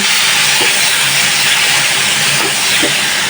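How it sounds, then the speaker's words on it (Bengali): Spice paste fries in a pan as the base for a prawn and papaya curry, making a loud, steady, close hiss with no break throughout. "প্রথমে মশলাটা ভালোভাবে কষাই"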